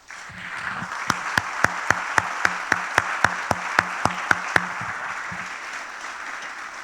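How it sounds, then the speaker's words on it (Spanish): A church congregation claps together in a steady, evenly spaced rhythm of about fifteen sharp claps over a soft background wash, then the clapping stops and only faint room sound remains. "le diéramos un aplauso al Señor"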